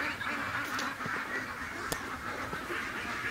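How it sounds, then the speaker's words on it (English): A wild duck near a barn and creek quacks a few times amid steady outdoor background noise. "I think that little wild duck is not too worried about me."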